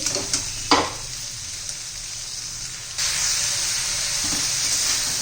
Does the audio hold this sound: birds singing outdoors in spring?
no